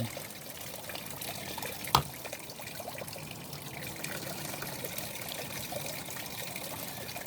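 Steady trickling and pouring water from a hose runs continuously while gold is being panned, close and even throughout with one brief knock partway through.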